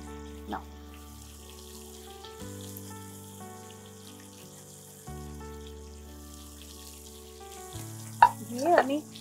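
An egg goes into a hot pan for a South Indian–style egg and coconut dish, with a soft continuous sizzle under a steady low hum, then a brief louder splash and crackle near the end.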